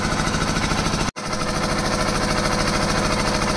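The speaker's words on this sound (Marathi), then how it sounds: "झालं मशीन पुन्हा चालू." A construction machine runs on a site where a concrete slab is being poured, giving a steady droning rumble with a brief cut-out near the start before it restarts and carries on evenly, loud and close.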